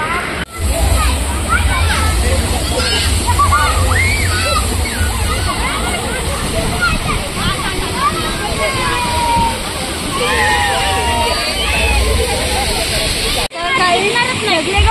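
Water sloshing and splashing steadily in a resort swimming pool, continuous and fairly loud, with a busy crowd of voices in the background.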